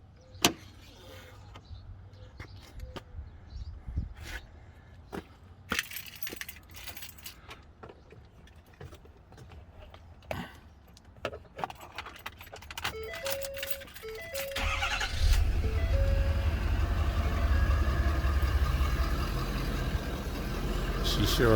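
A Ford F350 pickup, just repaired after a cold side pipe failure, has its engine cranked, then settles into a loud, steady idle after keys jangle and a few clicks and knocks, close to the microphone.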